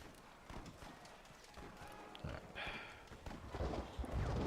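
Horse hooves clip-clopping in Red Dead Redemption multiplayer, a steady walking rhythm of thuds through rain and background noise, moderately close.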